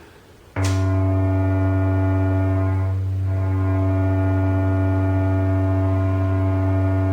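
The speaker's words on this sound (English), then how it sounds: "This is the Jaws wave, which is kind of a squeezed in sine wave." An Electric Sharks Innercoil tattoo machine driven by a squeezed sine-like Jaws waveform from a phone app starts abruptly and runs as a loud, steady low buzzing hum with strong harmonics, unchanging and alone for several seconds.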